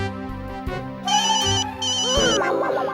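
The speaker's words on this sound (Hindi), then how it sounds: "फोन आ गया।" A phone ringtone chimes in a repeating electronic pattern, growing into a busier melody toward the end.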